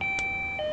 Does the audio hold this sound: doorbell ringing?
yes